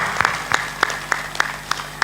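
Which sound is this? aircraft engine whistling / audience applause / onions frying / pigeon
audience applause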